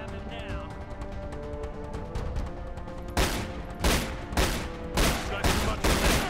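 Gunfire in the Riddick video game: a series of sharp, loud shots fires at an irregular pace over the game's steady background drone, with the bursts clustering in the second half.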